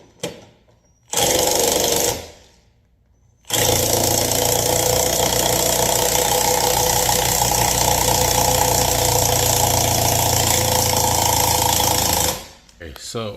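An impact wrench removes lug nuts from a 2025 Hyundai Santa Fe: a short loud burst of rattling hammering, a pause, then a long sustained buzzing rattle for about nine seconds before it cuts off, close up.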